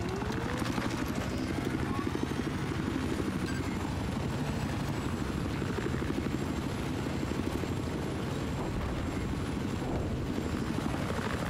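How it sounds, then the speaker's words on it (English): A helicopter in the video game Battlefield flies close by, its rotor chop a steady, dense rhythmic thumping that stays loud throughout without fading. "There's Chopper."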